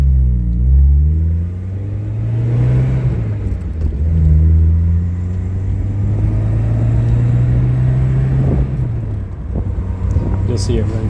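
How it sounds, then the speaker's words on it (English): A warm 1987 Alfa Romeo Spider engine hums steadily from inside the cabin, its pitch climbing and dropping as it shifts through the gears downhill, with a low rumble throughout. "You'll see it run through the gears just fine."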